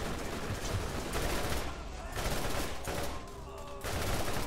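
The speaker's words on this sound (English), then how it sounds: "It's a fully automatic combat rifle." Fully automatic combat rifle in Borderlands firing in dense, loud, close bursts of rapid shots with brief gaps between them, overlaid by game effects and a voice talking.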